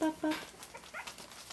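A 19-day-old Cairn Terrier puppy gives two short, high-pitched whimpers close by, then a voice speaks quietly.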